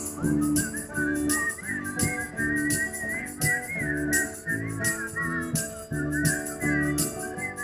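Cheerful whistling melody carried over a steady sung-style musical backing with bass and rhythm, the whistled tune rising and falling clearly across the whole passage at close, full volume.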